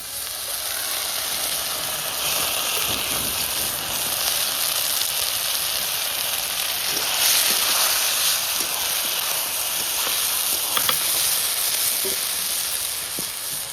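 Panch phoron, chopped onion, ginger, rice and dal for a winter vegetable khichuri sizzle and fry steadily in a hot pan, a continuous close hiss with faint stirring clinks.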